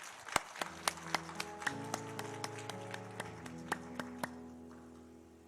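A church congregation claps in a steady, even rhythm over sustained keyboard or organ tones, each clap sharp and distinct. The clapping fades slowly toward the end.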